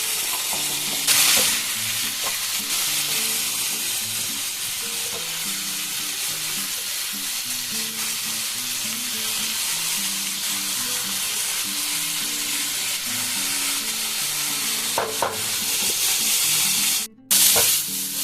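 Onions and tomatoes fry in a pan for a spicy small-fish curry, giving a loud, unbroken sizzle with soft stirring scrapes and a few sharper clinks, and no talking.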